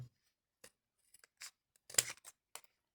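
Scissors cut paper close by and quietly in a handful of sparse, sharp snips with short silent gaps between them, and no one talks.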